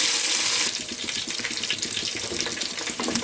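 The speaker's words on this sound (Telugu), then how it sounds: "ఇప్పుడు దీనికి సరిపడా వాటర్ పోసేయండి" Water poured into a pan of lightly fried rice while making paneer biryani, a steady close splashing gush that settles into continuous bubbling and sizzling with no talk.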